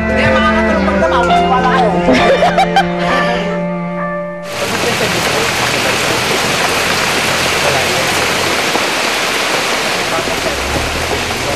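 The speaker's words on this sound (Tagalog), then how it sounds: "Kinabukasan, ginising kami ng patak ng ulan." Steady rain falls in a dense, even hiss on a rural morning in the Philippines, continuing unbroken for several seconds after a brief stretch of music fades out.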